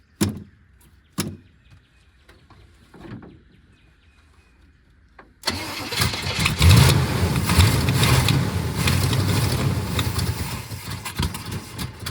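A 1972 Buick Skylark that has sat unused for years cranks and catches, then runs loudly and roughly with a steady, close engine roar; a few clunks and quiet handling noises come before it starts.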